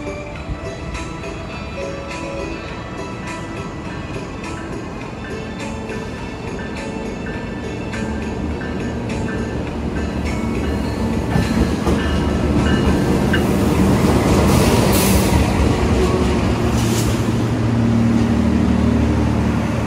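An Argo Merbabu train hauled by a locomotive with themed stickers passes through Cirebon station, a steady rumble of rolling wagons and rail clatter that builds louder and fuller toward the end, with no talk.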